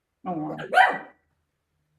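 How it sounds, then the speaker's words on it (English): A pet dog indoors lets out a single close, loud bark that sounds a little strained, heard during an online seminar, while a person's voice speaks briefly at the start. "Sorry, that's my dog."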